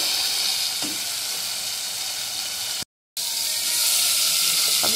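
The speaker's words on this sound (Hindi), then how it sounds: "अब ये मसाला तैयार हो रहा है" Masala for macaroni sizzling steadily in a pan, a continuous close frying hiss with occasional stirring clinks and a brief dropout midway.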